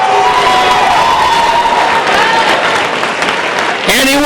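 Sustained applause and cheering from a large crowd at a 2017 Roseville High School graduation ceremony, loud and continuous throughout, with scattered shouts mixed in and a brief voice near the end.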